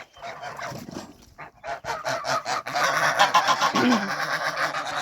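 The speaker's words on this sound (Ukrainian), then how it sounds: "Потім випустю гусей." Domestic geese on a farm honk loudly and repeatedly, several birds calling over one another in a noisy, overlapping chorus that grows denser toward the end.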